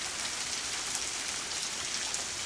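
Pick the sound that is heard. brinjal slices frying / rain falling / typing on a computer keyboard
rain falling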